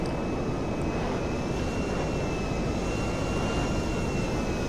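A jet aircraft engine in GTA 5 Online produces a steady, loud roaring whine with a faint high tone, continuous and unchanging, with no voices over it.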